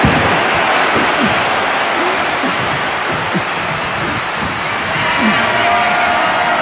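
A hot live arena crowd in the WWE 2K25 wrestling game roars and cheers steadily through a WrestleMania match between Roman Reigns and a female opponent, a dense continuous wash of noise, with a commentator talking over it.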